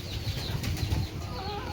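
Mixed farmyard poultry, chickens and ducks kept together with other animals on a small goat farm, clucking and rustling close by in a steady, busy cluster with no talk over them.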